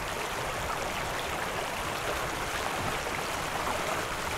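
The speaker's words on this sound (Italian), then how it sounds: "Si riempie il secchio d'acqua" Water rushes steadily into a bucket while a gold sluice is being set up to wash concentrate, a continuous dense splashing roar that stays even and close throughout, with no voices.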